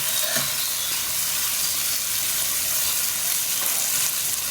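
Egg roe stir-fries in a pan for a basil dish, a steady, bright sizzle and hiss filling the scene with faint scraping of the spatula now and then, no voices.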